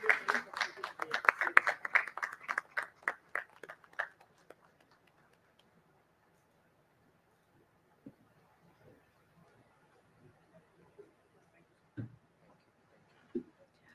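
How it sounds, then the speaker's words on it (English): Audience applause at a national convention of company secretaries, a burst of dense clapping that fades out within about four seconds, followed by near silence broken by a few faint isolated knocks. "A round of applause, audience."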